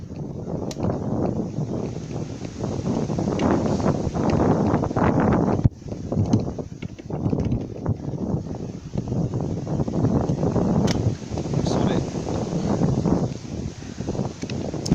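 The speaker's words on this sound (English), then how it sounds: "the wind keeps blowing the front wheel around" Gusty wind buffets the microphone outdoors in a loud, continuous roar with a brief dip midway.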